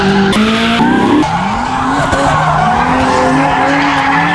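A drift car slides sideways through a stadium racetrack corner, its engine roaring loud and continuous while the tires squeal and skid without a break.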